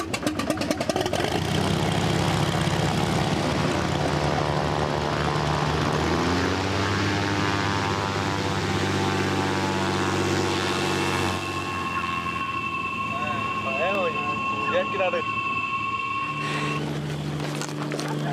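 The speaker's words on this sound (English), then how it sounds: "This little airplane has just dropped us off on this planet" A small propeller airplane drones steadily and loudly throughout, its engine pitch shifting midway as it moves, with no talk over it.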